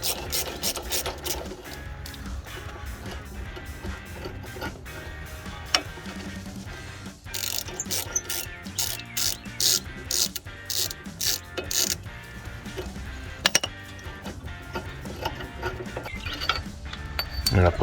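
A hand ratchet wrench works loose the three 18 mm nuts holding the top of a strut on a 2007-2018 Chevrolet Silverado 1500, giving close, repeated rapid clicking strokes that come in uneven bursts.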